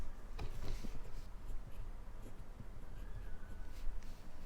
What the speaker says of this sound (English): Now, let's write.